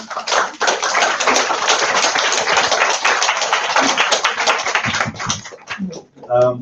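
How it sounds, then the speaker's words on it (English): A lecture audience gives sustained, dense applause for a talk on Fukushima, loud and close throughout, thinning out near the end as a few voices and thumps come through. "So let's give a nice, big, warm round of applause to David McNeill."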